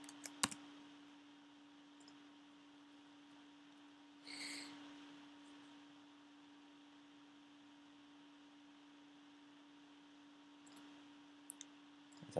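A computer mouse gives a few sharp, quiet clicks, one near the start and a couple near the end, over a steady low electrical hum with long stretches of near silence between.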